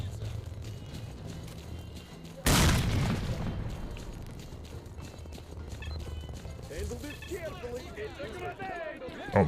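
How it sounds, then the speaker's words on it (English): Grenade explosion in STALKER: Clear Sky, a sudden loud blast that decays over a few seconds amid ambient game noise, with faint voices and scattered sounds afterward. "Oh, another grenade."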